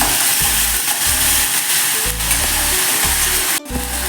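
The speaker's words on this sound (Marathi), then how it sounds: "आपण थोडे तेल घालून घेऊया त्यामध्ये व आवश्यकतेनुसार मिरचीचा ठेचा घालून घ्यायचा आहे" Crushed green chilli paste fries in hot oil in a kadhai for a fasting-style okra dish, a loud continuous sizzle with rhythmic low thumps of stirring, no talking.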